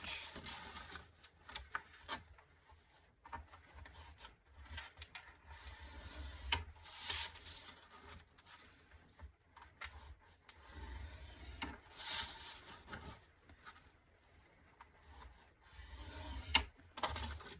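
Wood being scored for a handmade album box, a series of soft, close scratchy strokes and light rubbing at an uneven pace, fairly quiet with small knocks between passes.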